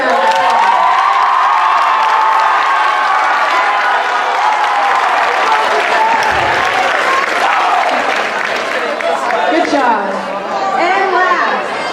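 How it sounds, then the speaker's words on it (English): A large audience at a school freshman awards assembly claps loudly and steadily, with cheering, whoops and chatter mixed into the sustained applause throughout. "Let's give him another round of applause."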